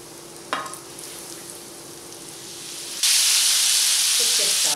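Sardine kefta frying in oil, a moderate hiss that suddenly jumps to a loud, bright sizzle partway through, close to the pan.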